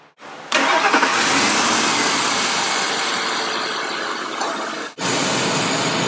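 A car engine cranks and fires up, then settles into a loud, steady running hum that dips briefly near the end before resuming, with no talking.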